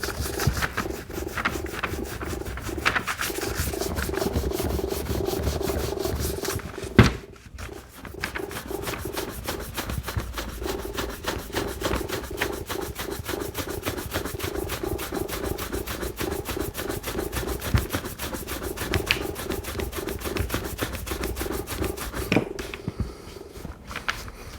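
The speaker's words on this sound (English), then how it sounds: "It's a much finer, softer brush for buffing." A fine, soft horsehair brush buffs a restored Red Wing 213 leather boot to a shine, making close, continuous rhythmic bristle-rubbing strokes with a brief knock partway through.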